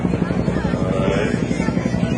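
Propeller airplane engine droning steadily overhead at an air show in Winston Salem, a loud continuous pulsing hum filling the scene with no talk.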